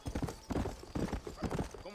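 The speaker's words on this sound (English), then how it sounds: "That's a war horse. Black horse." Horse hooves clip-clop steadily in Red Dead Redemption, a black war horse with a nice saddle trotting in a close, even rhythm of repeated muffled thuds.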